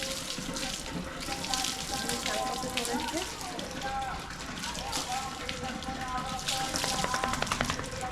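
Water splashes and pours steadily while Jhinku is bathed, a continuous close hiss and patter running throughout, with a voice talking over it.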